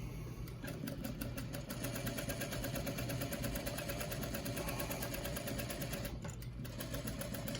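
A sewing machine stitches down a fabric mask in a steady, fast mechanical chatter that runs loud and unbroken close by, with a brief dip near the end.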